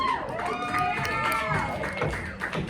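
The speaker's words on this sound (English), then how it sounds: "please give a round of applause for whoever's coming out" An outdoor park crowd at a Valentine's stand-up comedy show cheers, whoops and claps as the comedians walk out, with excited shouting voices and scattered clapping merged into a lively, close-up roar.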